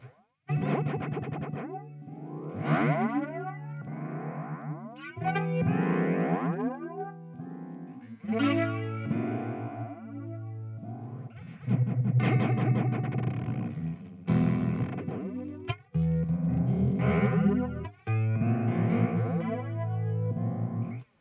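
A buzzy synthesizer plays a run of bright sawtooth notes, each swept by a whooshing Dreadbox Komorebi flanger that makes the tone swirl and shift, with no voices.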